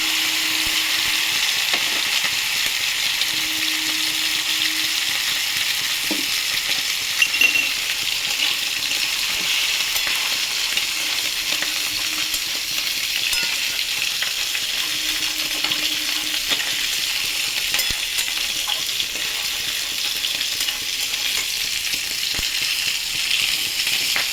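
Beaten sour yogurt sizzling in a pan of katla fish and potato curry as it is stirred, a steady soft frying hiss throughout with occasional scrapes and clinks from the spoon, close and moderately loud, no voices.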